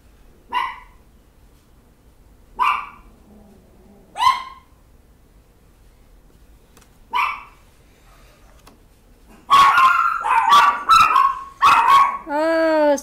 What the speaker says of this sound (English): somebody's out there and all the dogs are going crazy